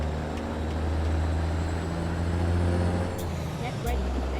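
Peterbilt 379X semi truck driving in American Truck Simulator, a loud continuous low engine drone heard from the cab, with a short airy hiss toward the end.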